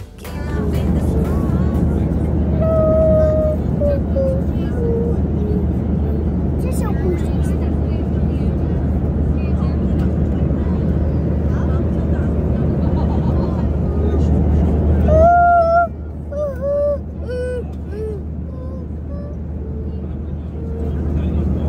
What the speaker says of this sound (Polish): Samolot zaczyna już tak powoli hamować